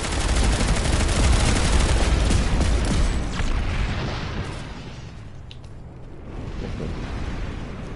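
Heavy, continuous video-game gunfire and explosive rumble in Planetside 2, loud and dense for the first few seconds, then easing into a quieter roar before swelling slightly again.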